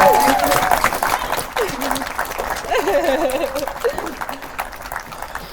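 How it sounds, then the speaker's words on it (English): Wedding guests at Hockwold Hall break into sustained applause right after the vows, a dense wash of clapping that continues under the officiant's speaking voice. "That deserves a round of applause, ladies and gentlemen."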